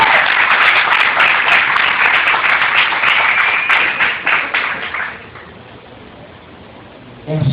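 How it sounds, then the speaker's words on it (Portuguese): Clapping from an audience at a Brazilian church youth gathering, loud and sustained for about five seconds before fading out, with a brief stir of sound returning at the very end. "Vai aplaudir, pode aplaudir."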